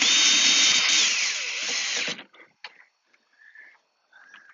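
A power drill whirs steadily for about two seconds, tightening a small Allen screw on a Jeep hard top, then stops, leaving faint clicks and handling noises.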